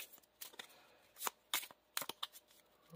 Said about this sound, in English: Gotta draw 2 more cards, so we're gonna shuffle our deck.